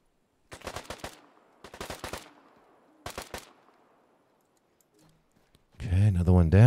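AK rifle fire in the game Deadside, three short loud bursts of rapid automatic shots separated by brief pauses and fading echoes, followed after a silence by someone talking.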